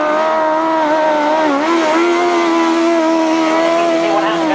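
A grasstrack racing motorcycle engine at a 1992 British Master qualifier roars past, a smooth, loud, sustained buzz that dips briefly in pitch before holding steady, close up.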